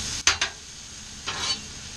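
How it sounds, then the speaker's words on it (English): Chicken, potatoes and vegetables fry in a pan, a low steady sizzle broken by two quick bursts of stirring and scraping, then a longer stir, close and with no talk. "Stir this up some more."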